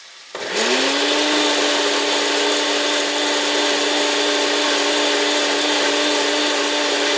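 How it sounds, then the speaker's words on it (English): A blender whirring steadily as it purées a ginger spice mix, starting abruptly and holding a loud, constant motor whine with a buzzing hum throughout, no voices. "let's blend the ginger spice mix that we just prepared"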